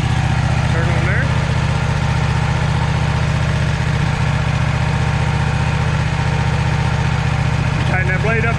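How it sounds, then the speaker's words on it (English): A diesel engine runs on a farm, a steady loud low drone with constant vibration throughout and occasional voices in the background. "We turn the diesel on up here."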